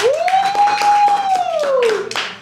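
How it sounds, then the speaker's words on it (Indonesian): Clapping breaks out for a woman guest on a talk-show style stage, steady and fairly close, with a long sustained tonal whistle or cheer riding over the claps before they taper off. "Tepuk tangan ya untuk Bu Zita."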